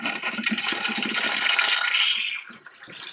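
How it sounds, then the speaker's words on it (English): Water rushes through a tankless water heater during a cleaning flush and pours steadily into a bucket, a loud, continuous hiss that eases off near the end, with no voices. "And the water's cycling through, cleaning out the inside of the tank with any remaining solution and coming into the bucket."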